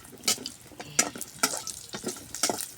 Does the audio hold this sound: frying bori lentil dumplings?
yes